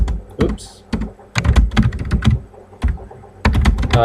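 Rapid bursts of computer keyboard typing during an online English review class, with irregular clusters of key clicks and thunks, fairly close and loud. A voice speaks intermittently between the bursts.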